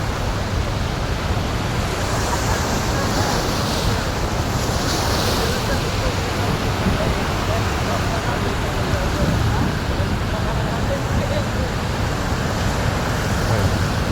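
Water roaring through six opened dam gates, a loud, dense, unbroken rush with heavy wind buffeting the microphone, steady from start to finish.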